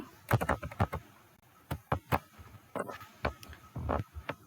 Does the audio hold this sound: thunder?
no